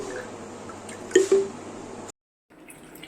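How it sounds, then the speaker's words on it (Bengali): Kewra water poured into chicken biryani: a soft, steady liquid trickle with a couple of wet drips near the middle, ending abruptly, then a faint hiss of background noise. No voices. "এই যে কেওড়া জল, এটা হচ্ছে এর মধ্যে কিছুটা দিয়ে দেবো"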